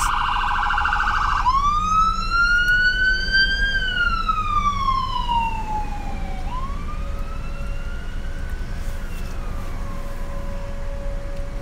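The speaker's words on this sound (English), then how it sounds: "people, know how to yield to ambulance" A loud wailing ambulance siren sweeps up and down in pitch, rising and falling in long arcs, then settles into a steady tone under continuous traffic rumble.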